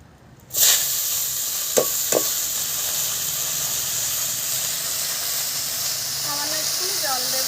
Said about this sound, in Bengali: কটা লঙ্কা ভেজে পালং শাকটা বসিয়ে দিই